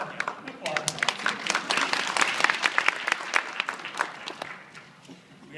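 Audience applause after a middle school 8th grade band concert, dense and sustained clapping from a crowd, swelling in the middle and fading toward the end, with a voice speaking over it.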